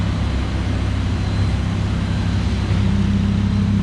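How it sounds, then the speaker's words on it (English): Audi R8 V10 RWS with a Quicksilver exhaust idling in comfort mode, a steady loud low engine drone that thickens slightly near the end as the exhaust flaps begin to open. "Any second, it's going to go into dynamic mode, flaps open, it's going to sound unbelievable."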